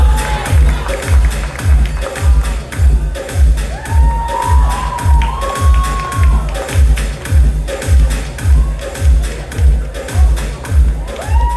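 A crowd at a live interview event in Chicago cheers and claps along to a pulsing, rhythmic beat, with rising whoops and shouts over loud repeating thumps.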